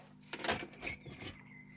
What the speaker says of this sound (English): That's taking the key out completely.